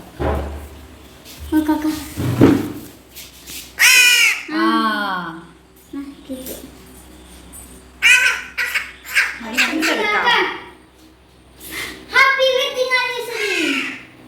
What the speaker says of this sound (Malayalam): അവിടുത്തെ കാക്കയ്ക്ക് തീറ്റ കൊടുക്കാൻ പോയേക്കുക